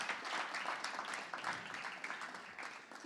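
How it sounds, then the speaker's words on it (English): An audience applauds the Delray Beach Police Department at a community youth event on police relations, a steady dense patter of many hands clapping together for a few seconds at moderate volume. "Let's give them a round of applause."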